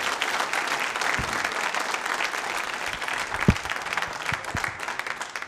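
An audience at a nursing college quiz show claps in a steady, moderately dense round of applause, a few sharper individual claps standing out near the end.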